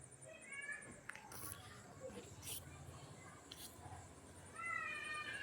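A cat meows quietly in short, rising calls near the start and again at the end, with soft background noise and a few faint clicks in between.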